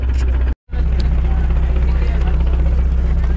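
A boat engine runs with a loud, steady low drone close by, cutting out for a split second near the start before resuming evenly.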